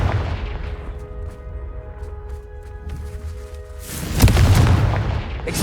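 A Confringo blasting spell in Hogwarts Legacy erupts as a loud booming explosion late on, following a quieter stretch with a tonal hum, and then rumbles on briefly.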